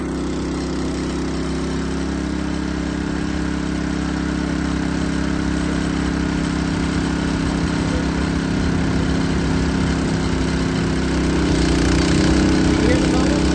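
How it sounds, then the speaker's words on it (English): A trash pump's motor runs steadily throughout, then shifts in pitch near the end as it comes under load while pumping water into a hose, with people talking outdoors over it. "You hear the motor change? That's what's doing that pressure."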